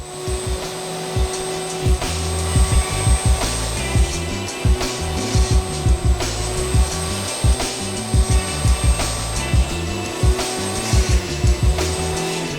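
A vacuum cleaner makes a final pass over a freshly cleaned carpet, its steady loud whine running throughout while repeated bumps and thuds mark the strokes back and forth.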